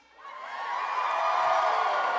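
Convention panel audience at PAX West cheering and whooping, the crowd noise swelling over the first half-second and then holding as a loud, steady roar of many voices.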